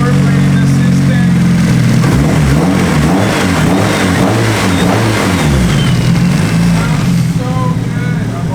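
Adams' Nissan 240SX (SR engine) running with a newly fitted turbo, a loud, close, steady engine drone with wavering pitch as it idles and revs gently, no voices over it.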